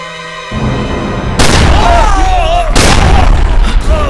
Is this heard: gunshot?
yes